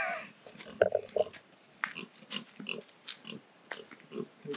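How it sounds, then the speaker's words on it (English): A pig in mud in the Marquesas gives a run of short, close grunts and snuffles, repeated in uneven bursts. "But he wants to show us his pig."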